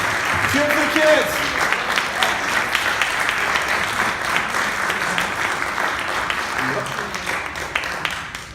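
Audience applause with scattered cheering for children at an Earth renewal celebration performance, a steady dense clapping wash lasting throughout, fairly loud with a few voices mixed in.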